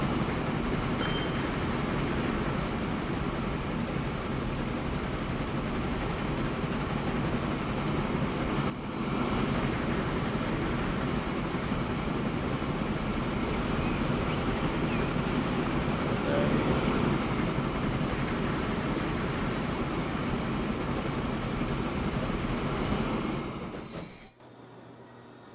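A very long freight train in the railway simulation game Transport Fever 2 rolls past with a continuous metallic rumble and wheel squeal, steady and loud before cutting off abruptly near the end.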